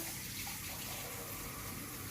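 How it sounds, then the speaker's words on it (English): Cold water runs from a kitchen tap as hands are wet while making soft-batter biscuits, a steady close hiss and splash with no talking. "I'm going to wet my hands a bit with cold water"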